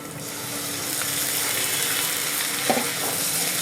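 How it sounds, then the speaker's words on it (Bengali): Potato frying with ground cumin and a chilli paste in a pan for rajma tarka, a loud, steady sizzle close by with a brief spatula scrape near the end, no voices. "এটাকে একটু ভালো করে ভেজে নেব"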